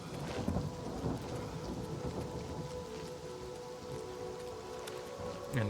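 A thunderstorm in the video game Oblivion Remastered: steady rain hiss under low, distant thunder rumbling throughout, faint and continuous.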